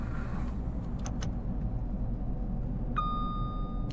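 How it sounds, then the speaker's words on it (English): A single bell chime rings out on a BR Class 170 Turbostar train in Train Sim World 5, a clear ding that lingers over a steady low cab rumble, with no talk. "Let's try this bell."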